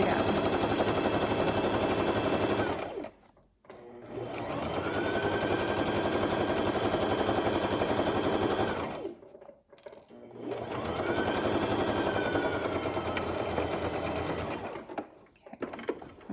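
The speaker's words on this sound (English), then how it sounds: "Sewing forward a few, reversing a few, sewing all the way down." Sewing machine stitching a zippered pouch seam, running forward and in reverse, a loud, close, continuous mechanical whir in three long runs broken by short pauses.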